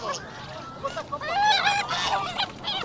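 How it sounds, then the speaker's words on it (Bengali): Desi chickens at a market in Kuwait call out with loud, nasal squawks and cackles close by, several birds overlapping in short bursts. "রাতা হ্যাঁ ধরছি দেশি মুরগি দেশি যেটা আমরা বাংলাদেশ থেকেও অ্যাকচুয়ালি"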